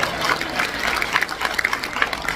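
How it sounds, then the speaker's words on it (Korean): A seated audience at a panel discussion claps for Dr. Oh Sang-guk, a short stretch of moderate, slightly uneven applause with no speech over it. "신학생 오상국 박사님도 감사의 박수를 보내주시기 바랍니다."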